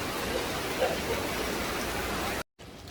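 Rain falls steadily outdoors in Tainan, Taiwan, as a dense, even hiss close by, briefly cut to silence near the end before resuming more faintly.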